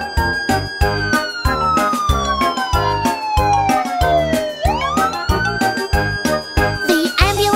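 Cartoon ambulance siren wails in a falling, then rising sweep over a bouncy children's song with a steady beat, loud and up front.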